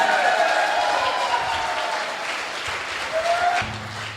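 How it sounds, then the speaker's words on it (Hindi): Audience at a team leadership event applauding, a steady round of clapping that gradually fades out near the end. "दिल की गहराइयों से जोरदार ताली दोस्तों।"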